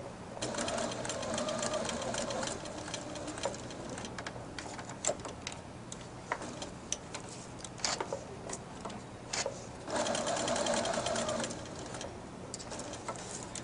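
A sewing machine set to straight stitch runs in bursts as it sews a small box over ribbon on elastic, its fast, even needle rattle starting and stopping with brief pauses and faint background noise.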